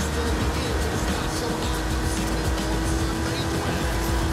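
Car engine driven hard in the video game Forza Horizon 5 during a speed-zone challenge, a continuous loud droning roar with a steady tone throughout.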